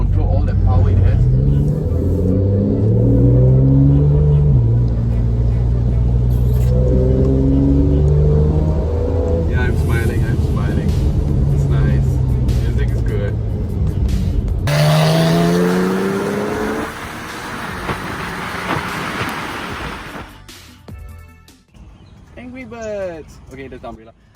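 Porsche 991.1 Carrera S with a 3.8-litre naturally aspirated engine, driven hard with revving acceleration and a brief tire squeal, under someone talking throughout.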